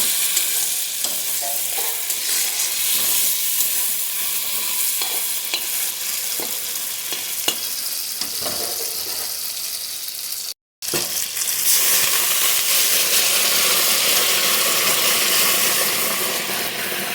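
Hot water is poured into sizzling, fried masala for a bottle gourd kofta curry, with a continuous loud hiss and stirring scrapes, a brief break, then a stronger steamy sizzle as the liquid hits the pan.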